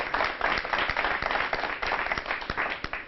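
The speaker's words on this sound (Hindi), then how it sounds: "जरा जोरदार तालियां एक बार ममता शर्मा जी के लिए" Audience applause for a poet at a Hindi kavi sammelan, a dense wash of many hands clapping steadily throughout, moderately loud and slightly distant, with a few sharper individual claps standing out.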